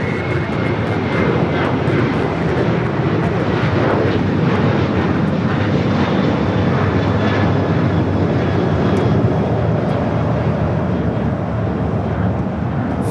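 American Airlines jet taking off at LAX, a powerful sustained engine roar heard near and loud throughout, steady with no gaps and no talking.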